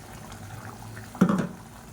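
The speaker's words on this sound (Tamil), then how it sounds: "இப்போ பாருங்கள், தண்ணி ஊற்றி நல்லா கொதிக்க ஆரம்பிச்சிருச்சு" A low, bubbling simmer from a pot of coconut-paste kurma curry, with a short louder burst of bubbling and splashing partway through.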